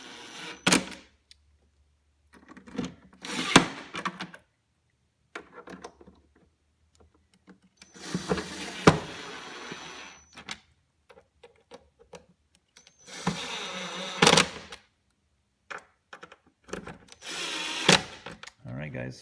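A power driver tightens the screws on the air filter box of a 2017 Audi A4 (B9): several short, close whirring bursts separated by pauses, with faint clicks and handling noises between them.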